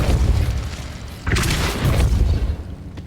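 Depulso force spell cast in the video game Hogwarts Legacy, a sudden loud booming burst at about 1.3 seconds that rumbles on for over a second over a steady low game background.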